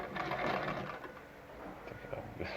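A Gritzner model VZ heavy-duty sewing machine stitching zigzag, giving a continuous mechanical whir with a soft rattle at moderate loudness that steadies toward the end.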